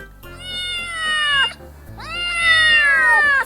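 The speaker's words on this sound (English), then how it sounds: "What cat is doing?" A cat gives two long, drawn-out meows, close and clear, the second slightly longer, with a short gap between them.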